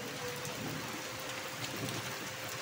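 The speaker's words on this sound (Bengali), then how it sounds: "এখন দুপুরবেলা দেখো বৃষ্টি হচ্ছে।" Steady midday rain in a village, falling as a dense, continuous hiss of drops with no pauses and no voices.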